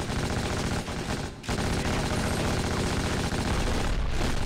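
Sustained M249 machine gun fire in the video game Black, a dense, loud, continuous rattle of rounds with a brief gap early on before the firing resumes unbroken.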